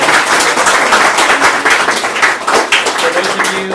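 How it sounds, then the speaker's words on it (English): Dense, loud audience applause fills the room at the close of a lecture on immigration policy in South America, steady clapping throughout with no talk over it. "Let's give Mayra Feddersen a round of applause."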